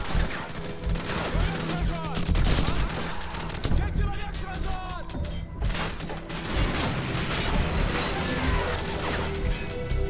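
Bursts of Call of Duty 4: Modern Warfare gunfire crackle in rapid volleys, dense and loud throughout, with impacts and clatter layered over a steady low rumble.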